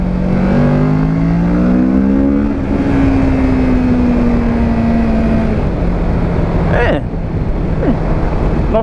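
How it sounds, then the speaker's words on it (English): A 2017 Kawasaki Ninja 650 with a Euro 4 exhaust rises and falls in pitch at steady road speed, its engine note heard through heavy wind rush. "It's not too bad a noise. It's, again, it's a Euro 4 exhaust."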